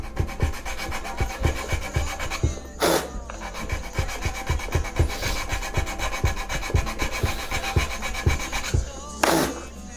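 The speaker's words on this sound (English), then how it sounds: "So I'm just going to keep filing with my triangular file." A triangular file rasps across a guitar bridge being set up for bowing on a homemade bowed guitar, a steady close scraping stroke repeated rhythmically with a couple of brief louder scrapes, no talk.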